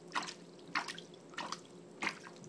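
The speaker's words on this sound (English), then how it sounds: "Splash him with a little water." Water splashes and drips on a small pet in a bath, four quiet, evenly spaced splashes close by, each a brief wet patter against faint room hum.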